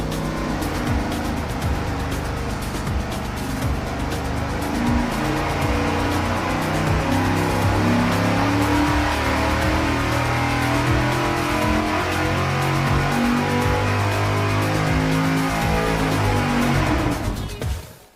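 A loud engine runs hard on a dyno during cam testing, a dense roaring drone that holds steady for a long stretch before dropping away abruptly as it shuts down at the very end.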